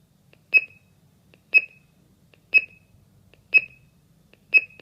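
A home security alarm system beeping through its arming delay: five short, clear electronic beeps at an even one-second pace, close and alone in a quiet room.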